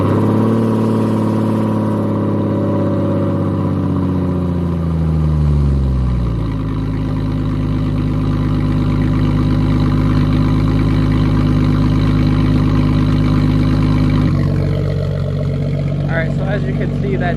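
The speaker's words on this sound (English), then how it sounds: "we are going to be trying to start it now, so hopefully a little bit of a cold start" A car engine cranks on a very cold morning, catches, and settles into a steady idle that continues for several seconds before shifting in pitch near the end.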